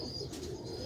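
Pigeons, Sialkoti breed, give soft low cooing calls in a short burst, close by against a steady background murmur.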